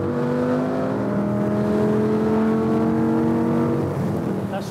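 Lamborghini Gallardo V10 engine revving loudly and steadily, its harmonic drone holding for about four seconds before the pitch shifts and eases near the end, with no talk over it.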